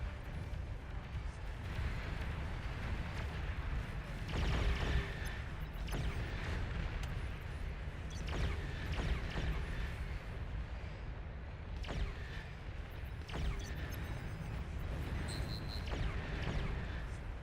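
Thermite weapons firing in the strategy game Beyond All Reason, a continuous roaring, rumbling barrage broken by repeated booming bursts at irregular intervals, dense and steady throughout.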